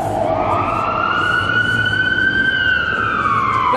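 Loud fire engine siren nearby, its wail rising slowly and then easing down over a rumbling truck engine, continuous and without voices.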